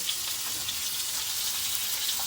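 Pomfret fish frying in a pan, a steady dense hiss of sizzling oil with small pops scattered through it, close and continuous.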